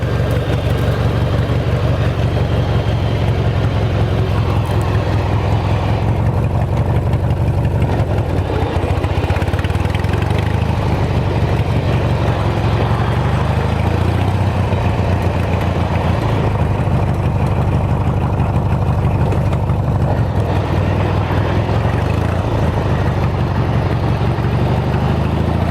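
An engine running steadily, a loud, low rumbling drone with a slightly uneven throb that holds for the whole stretch.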